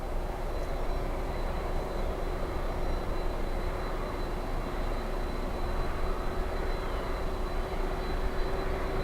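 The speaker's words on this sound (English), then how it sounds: "Let's go over to Taxiway Sierra, and we have the FedEx" A FedEx Boeing 767 taxis at Miami International Airport, its engines making a continuous, even roar with a faint steady whine that holds without a break.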